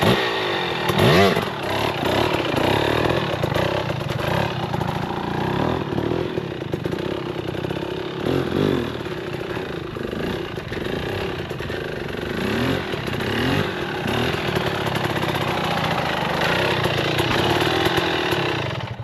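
A motorcycle engine revs and holds steady throttle while the bike is held up in a wheelie, running a taller gear, loud and close with a rough buzzing tone throughout.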